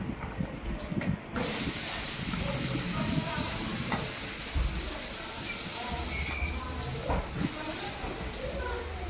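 Potatoes coated in chili and turmeric sizzle in hot oil in a pan, giving a steady, dense hiss throughout, with occasional clinks and a voice talking over it.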